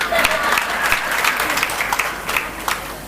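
Audience clapping fills a gathering in the court of Lord Krishna in Malad, Mumbai, a dense steady patter of many hands running throughout at close, even loudness.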